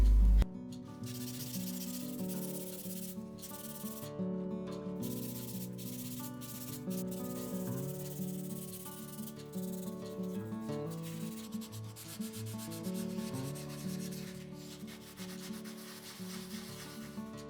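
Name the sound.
wet sanding porcelain doll parts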